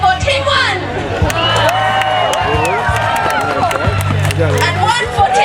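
An outdoor crowd at a medieval fair cheers for Team 1, with whoops, claps and excited voices swelling close by while people talk and shout over the noise.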